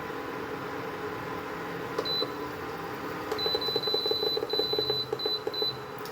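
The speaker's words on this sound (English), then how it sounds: "Okay, so I will set a timer." A kitchen timer beeps during cooking, with a short chirp followed later by a longer run of rapid, repeated high beeps over a quiet room hum.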